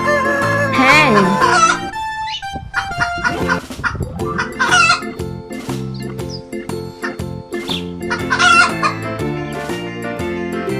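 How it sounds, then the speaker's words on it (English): A hen clucks and cackles repeatedly, loud and close, in bursts of squawking calls, with farmyard-type backing sounds. "Hen."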